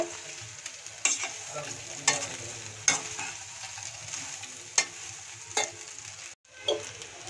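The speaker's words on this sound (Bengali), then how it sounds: "ভালোভাবে মশলার সঙ্গে পাস্তাগুলো আমি মিলিয়ে নেব।" Pasta being stirred with pasta masala in a pan at home for chicken pasta, a steady sizzle with periodic scraping strokes of the spoon about once a second.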